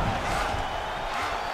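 Arena crowd in the UFC 5 video game cheering and applauding after a grappling exchange, a dense continuous roar of voices and clapping filling the short stretch, loud and close.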